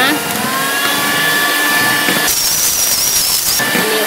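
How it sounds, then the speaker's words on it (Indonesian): An electric mixer whirs loudly and continuously as it blends a Nutrisari ice cream mixture, its whining pitch shifting partway through as the load changes. "bunda di mixer sampai tercampur semua nutrisarinya"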